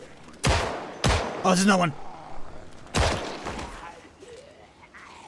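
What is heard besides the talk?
gunfire in Project Zomboid video game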